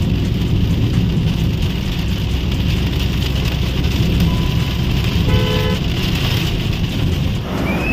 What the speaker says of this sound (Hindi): यहाँ भी एकदम बढ़िया वाली बारिश पड़ रही है